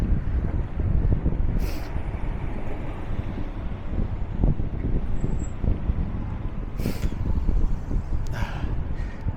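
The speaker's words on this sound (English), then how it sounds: "This wind is brutal." Strong wind outdoors on a city street in Hartford, Connecticut, buffeting the microphone as a steady, loud rumbling roar throughout, with a few brief higher noises passing over it.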